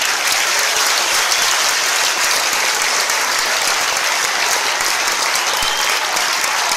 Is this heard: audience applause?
yes